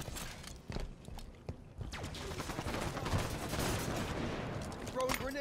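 Rapid gunfire from a Halo 5: Guardians firefight, dense overlapping bursts and shots continuing steadily at moderate distance, with faint mechanical clatter mixed in.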